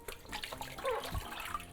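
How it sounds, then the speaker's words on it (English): Water from washing a wool sweater splashes and pours briefly out of a basin, a short, soft trickling gush with a few gurgles. "I'm going to empty out this water."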